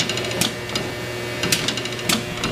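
A pedal-operated screen printing press clacks in a loose rhythm, sharp mechanical knocks spaced about half a second to a second apart over a steady low machine hum, heard close.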